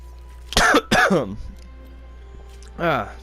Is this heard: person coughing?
yes